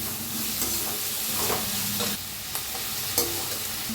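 Onions fry in a pan for egg fried rice, sizzling steadily while a spoon stirs and scrapes in a few distinct strokes, close and without talk.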